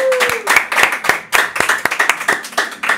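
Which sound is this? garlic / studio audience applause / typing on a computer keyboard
studio audience applause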